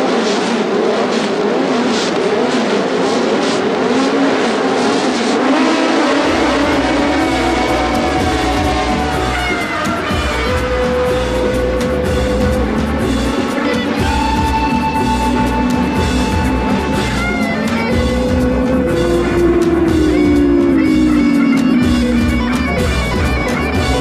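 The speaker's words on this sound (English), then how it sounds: "Going to overtake in the slipstream, Jochen" 1970 Formula One race cars howling around the Hockenheim circuit, a loud sustained engine scream with rising and falling pitch as cars chase and overtake in the slipstream, several engines overlapping throughout.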